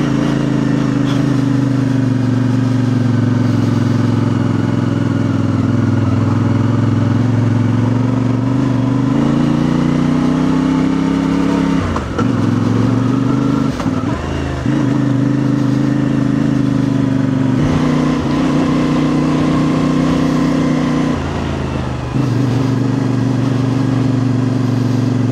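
A motorcycle engine with a very sensitive throttle, ridden in Spain, holds a loud steady drone close by, rising in pitch as it revs, then dipping and climbing back a few times with brief throttle changes.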